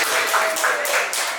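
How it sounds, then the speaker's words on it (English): Audience applause from a live crowd at a podcast taping, a dense steady patter of many hands clapping close and loud through the short stretch. "Clap it up for yourselves for being alive."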